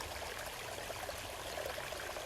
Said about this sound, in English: Hear the water just going down